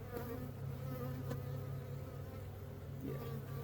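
Honey bees buzzing steadily around an open hive in an apiary, a dense, continuous close drone with no breaks and no talking.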